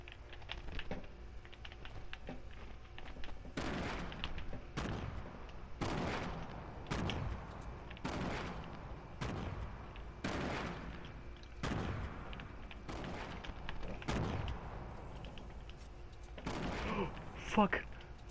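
Fortnite gunfire sounds as a series of separate, sharp broadband shots, roughly one per second and fairly quiet, against faint background noise.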